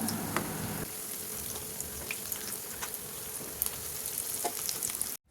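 Snacks fry in oil over a medium-high flame with a constant crackling sizzle and scattered sharp pops, close and steady throughout, ending in a sudden cutoff.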